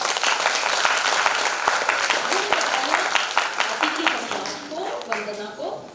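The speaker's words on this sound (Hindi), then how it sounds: "तो किकली के लिए जोरदार तालियां।" An audience at an inter-school children's Hindi drama festival, Bal Rangmanch Mahotsav 2025, breaks into loud, sustained applause of many clapping hands, gradually thinning, with a voice speaking over it.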